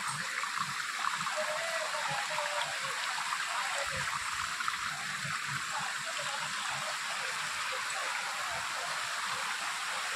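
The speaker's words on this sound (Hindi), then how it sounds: "ये झरना से पानी नीचे उतर रहा है" Water from a waterfall pours steadily down over stones into a pool, a continuous broad rushing wash that stays even and fairly close throughout, with no voices.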